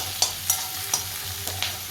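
Gravy ingredients fry in a little oil for an aubergine curry, with a soft steady sizzle broken by about five quick scraping stirs in a pan, close and without talk.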